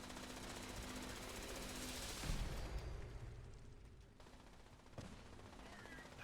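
Turrets in Fallout 76 fire rapid, rattling automatic bursts over a dense background of game noise, with a heavier impact thump midway and further scattered shots trailing off.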